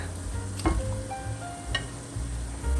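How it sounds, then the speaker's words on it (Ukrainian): Apple cider donuts frying in hot oil, a steady close crackle and sizzle with a few sharper pops and faint clinks, continuous throughout with no talk. "І допоки смажаться одні пампухи,"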